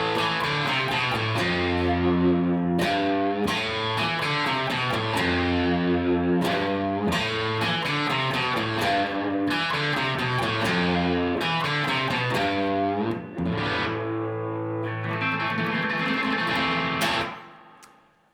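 Heavily distorted electric guitar plays a riff, fast chugging chords and runs across three strings, loud and up close, ringing out and cutting off near the end, alone with no voices.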